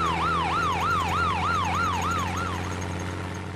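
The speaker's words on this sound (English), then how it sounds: "Ambulance." Ambulance siren wailing in a steady rising-and-falling cycle, loud and close, about eight sweeps over a low engine hum, with no voices.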